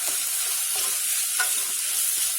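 Lentils sauté in a hot pan with a loud, even, hissing sizzle that holds steady throughout, with no speech.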